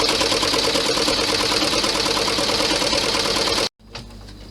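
An embroidery machine stitches the outline of a compact bag, a loud, steady, fast mechanical whirring and rattling that runs without a break for most of the clip, then stops abruptly near the end, leaving only faint room noise.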